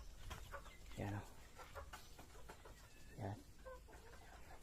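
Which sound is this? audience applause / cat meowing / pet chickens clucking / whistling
pet chickens clucking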